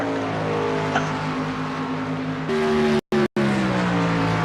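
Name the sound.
race cars driving on track at Homestead Miami Speedway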